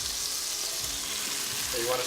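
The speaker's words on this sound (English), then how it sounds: "You want to saute those, get some nice brown color on those" Mushrooms sautéing in peppery late-harvest olive oil, a steady close sizzle and crackle of frying that fills the whole moment without a break.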